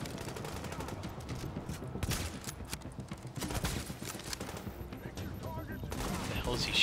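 Rapid bursts of enemy gunfire in a first-person shooter battle at Grand Central Station, dense and continuous with irregular sharp cracks layered over a constant din of combat noise.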